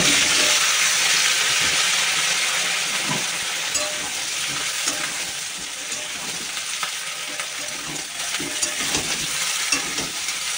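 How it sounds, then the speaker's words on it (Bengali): Vegetables sizzling in hot oil after a cumin seed tempering, a bright, continuous hiss with occasional stirring clatter, close to the microphone and without speech. "জিরে ফোড়ন দিলাম। দিয়ে সবজিটা দিয়ে দেবো এবার।"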